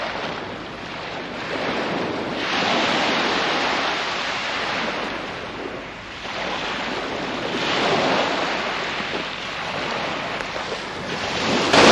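Surf breaking and washing steadily on the beach at Hemsby on the Norfolk coast, loud broadband wash swelling and easing in waves, with wind buffeting the microphone throughout and no talk.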